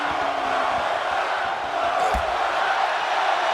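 A wrestling event crowd roars and chants steadily throughout, a dense continuous wall of voices with a brief thump partway through.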